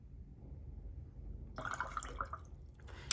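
A watercolor paintbrush is rinsed in a small container of water, a quiet faint stillness followed by soft splashing and dripping swirls midway through, close and delicate.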